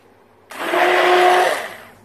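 A blender mixing exfoliating body lotion whirs into action, running at a steady high-pitched drone for about a second before winding down.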